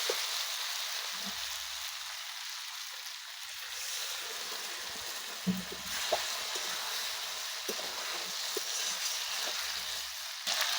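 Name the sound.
mutton curry cooking in pan after adding water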